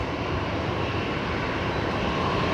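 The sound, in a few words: Jetstar Boeing 787 taking off for Osaka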